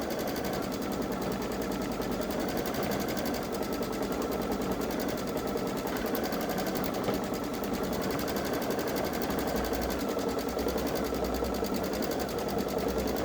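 Babylock Solaris Vision Journey sewing machine stitching an edge-to-edge quilting pattern on a turtle seascape panel, a steady, fast, continuous mechanical chatter running unbroken and fairly loud throughout.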